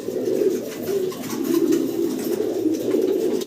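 Pigeons coo steadily and close by, their low, rolling calls overlapping throughout without pause.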